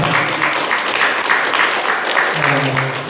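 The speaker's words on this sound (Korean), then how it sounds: "박수." A church congregation claps together during a Sunday worship service, a dense, sustained round of applause that runs the full length, with a voice speaking faintly underneath.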